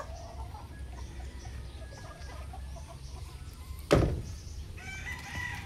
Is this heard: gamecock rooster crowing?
yes